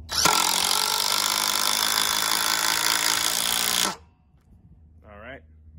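A DeWalt impact driver runs continuously for about four seconds as it drives a lag bolt into wood, loud and close with a harsh hammering rattle, then stops abruptly, followed by a brief voice.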